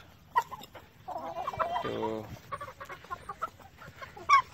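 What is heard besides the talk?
Aseel rooster clucking on a farm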